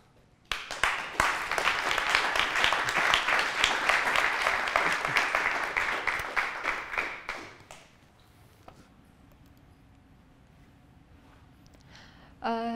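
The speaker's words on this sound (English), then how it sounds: "I just want to give them a huge round of applause." An audience gives a hearty round of applause for a student team presenting on pothole-filling robots, loud continuous clapping for about seven seconds that tapers off into quiet room tone before a voice resumes.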